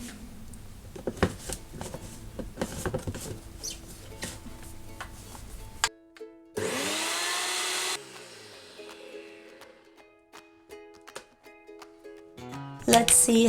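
A blender whizzes spicy green harissa made with orange juice, lemon juice and olive oil. It gives one loud, steady whirr lasting about a second and a half, with kitchen clatter and clicks before and after.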